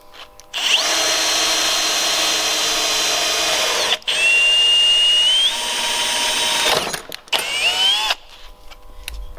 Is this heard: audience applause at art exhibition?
no